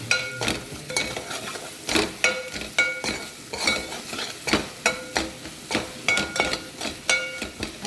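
Masala with turmeric and garam masala fries in oil, a soft sizzle under repeated rhythmic scraping and clinking strokes of a spoon against the pan, close and steady.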